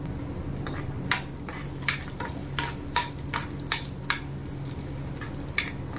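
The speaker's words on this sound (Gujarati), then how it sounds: "લસણની કળી સરસ મજાની લાલ થઈ જાય ત્યાર સુધી તેલના અંદર શેકવાની છે." Garlic cloves fry in hot sesame oil, a steady sizzle broken by a series of sharp utensil clicks and scrapes as the cloves are stirred in the pan.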